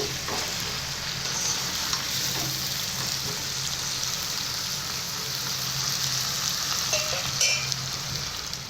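Jackfruit curry with fried potatoes being sautéed in a pan, a steady broad sizzle with soft stirring scrapes running throughout at moderate level, no voices.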